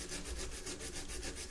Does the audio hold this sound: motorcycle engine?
no